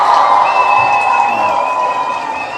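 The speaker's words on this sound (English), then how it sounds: "let's give him another huge round of applause" Audience applause and cheering at a live event, a loud crowd roar with shouts and a whistle-like tone that fades slightly over a couple of seconds, no speech.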